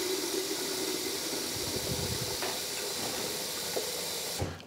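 Boiling water poured for potato salad makes a steady, close hissing pour with faint clinks, continuing for several seconds before stopping abruptly.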